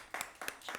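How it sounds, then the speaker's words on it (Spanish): A lone person clapping during a talk-show conversation about humour and narrative medicine: three faint, sharp hand claps spaced evenly across under a second, with nothing else around them. "Yo creo que merece un aplauso."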